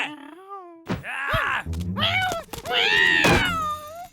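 A voiced cartoon cat gives a string of drawn-out, wailing meows and groans, broken by a dull thunk. The cries are loud and close, with rising and falling pitch, and no one speaks over them.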